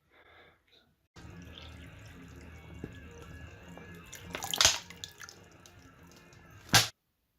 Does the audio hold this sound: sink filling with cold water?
yes